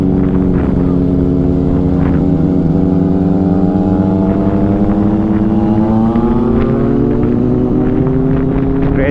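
A Triumph Street Triple motorcycle rides fast on a night road, its engine a steady, loud drone that rises slowly in pitch as it accelerates, heard close and continuously with no talk.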